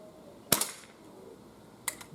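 A Crosman 2240 CO2 air pistol fires pellets outdoors at ten yards, two sharp cracks about a second and a half apart, each with a brief trailing rattle, close and alone.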